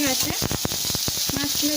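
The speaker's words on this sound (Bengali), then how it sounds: "ভাজা মাছগুলো ভাজা হয়ে গেছে এবার আমরা মাছগুলোকে তুলে নেব" Lote fish frying in hot oil in a home kitchen, a close, continuous crackling sizzle with sharp spitting pops.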